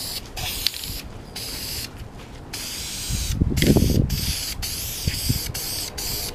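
Silver high heat spray paint hissing from an aerosol can onto motorcycle parts during an FZR restoration, several short close bursts of spray separated by pauses, with a louder, longer burst midway.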